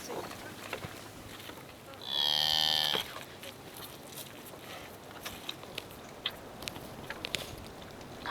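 A cow on the Mongolian steppe gives a single loud moo lasting about a second, set against quiet outdoor ambience with faint footsteps and small rustling sounds.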